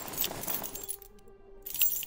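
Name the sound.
car keys jangling as they are handed over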